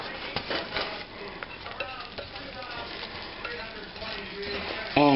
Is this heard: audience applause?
no